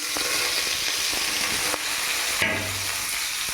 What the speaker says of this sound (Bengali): কড়াইতে সর্ষের তেল দিয়ে দিয়েছি। এবার এখানে এই ডুমুরের জন্য এখানে আলু কেটেছি, আলুগুলো ভেজে নিচ্ছি।